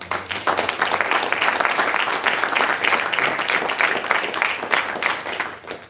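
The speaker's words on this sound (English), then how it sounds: "So a round of applause for Brian." Audience applause for Brian at an Eagle Scout Court of Honor, a full round of clapping from the gathered crowd, loud and steady throughout before tapering slightly at the close, with no speech over it.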